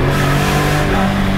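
A BMW M3 E46 with a naturally aspirated engine, driven in sport mode, revs loudly and close in a brief sustained burst of strong, even engine roar.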